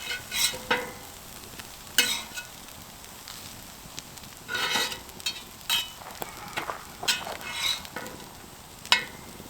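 Hash browns sizzling on an antique Wagner Ware cast iron griddle, a steady crackling fry broken by repeated scraping bursts from a spatula turning and moving them, close and without talk.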